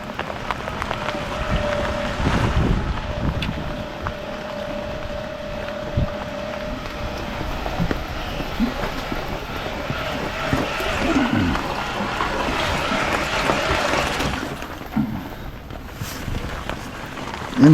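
Strong wind from Typhoon Pepito, a steady loud rushing roar with buffeting gusts hitting the microphone throughout.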